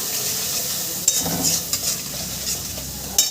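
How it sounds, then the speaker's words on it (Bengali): Spice paste for a Bengali vegetable and ground-fish curry fries in a pan while a spoon stirs it, giving a steady sizzling hiss broken by a few scraping strokes and soft clinks. The sound is close and continuous, with no talking. "আমি মশলাটা এবার সুন্দর করে ভেজে নেব"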